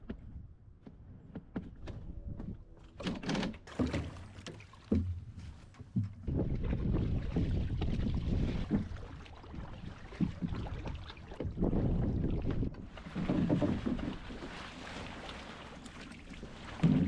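A small proa with a lug sail moving through 15 to 20 knot wind, with steady roaring wind buffeting the microphone and water rushing along the hull.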